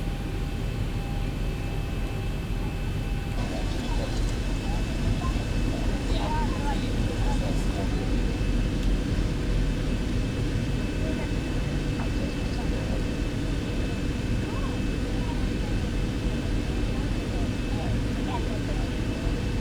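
A Boeing 737 flown with the Zibo mod in X-Plane 12 drones steadily on approach and landing at Binhai, Tianjin, a loud, unbroken engine and airflow roar under the pilot's talk throughout.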